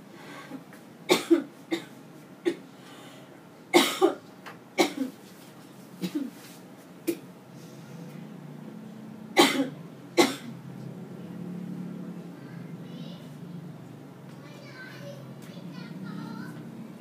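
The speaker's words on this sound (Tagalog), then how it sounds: "Sige, ubo ka ulit" A child coughs repeatedly in short bursts, some in quick pairs, close to the listener, with quiet background murmur and faint voices between coughs.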